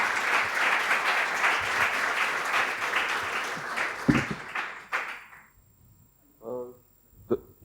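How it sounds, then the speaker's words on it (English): An audience at a talk on the Emmett web framework claps in a dense burst of applause that fades after about five seconds, leaving a few scattered claps and a brief vocal sound near the end. "A big round of applause for Giovanni."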